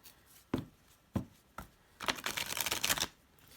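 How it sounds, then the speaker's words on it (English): A few sharp taps followed by a quick riffling burst, like a deck of oracle archetype cards being shuffled close by, then quiet. "they're not too easy to shuffle if you have small hands"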